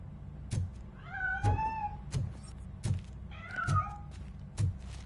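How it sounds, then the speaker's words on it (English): A cat in the video game Robocop Rogue City meows twice, a drawn-out mew followed by a shorter rising one, over a low steady hum with soft periodic thumps. "That cat must be hiding inside."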